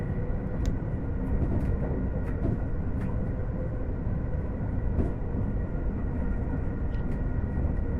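Steady low rumble of a British Rail Class 807 Evero electric train running fast on the West Coast Main Line through Stafford, a continuous drone with faint rail clicks and no talk.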